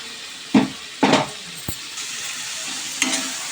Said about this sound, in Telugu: ఈ అల్లం వెల్లుల్లి పేస్టు ఇది మొత్తం పచ్చివాసన పోయేదాకా ఫ్రై అవ్వాలి